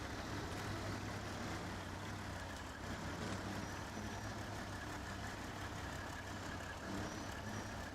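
The Plaid, a huge heavy truck in the video game SnowRunner, idles with a low, faint, steady engine rumble that holds unchanged throughout, with no talk.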